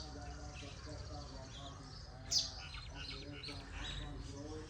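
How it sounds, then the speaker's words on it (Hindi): Birds chirp and call outside a village home in Pakistan, a steady bed of small tweets with one brighter nearby chirp standing out, set against constant outdoor background noise. "नए परिंदों की आवाज़ें सुनने को मिल रही होती हैं।"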